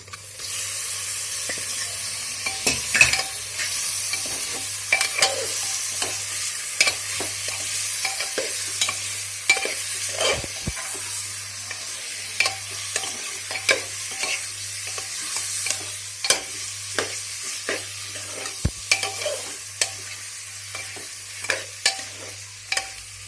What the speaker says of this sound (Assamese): মাংসখিনি এবাৰ দি দিম